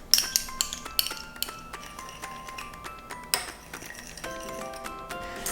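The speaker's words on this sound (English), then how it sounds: "In a small bowl, mix the soy sauce, mirin," A spoon clinks and taps against a small bowl while soy sauce, mirin and oyster sauce are stirred together, giving a run of light, close, irregular chinks with no talk.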